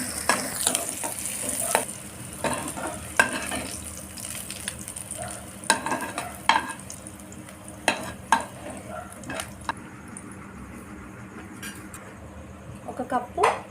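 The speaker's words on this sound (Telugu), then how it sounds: "ఒక కప్పు ఉల్లిపాయలు, కొంచెం కలర్ మారేంత వరకు దూరగా వేయించుకోవాలి." A cup of onions fries in a pan for a restaurant-style paneer masala curry, a soft continuous sizzle broken by sharp stirring scrapes and clatters, with speech partly overlapping.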